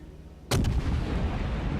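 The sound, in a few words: naval guns firing in a warship video game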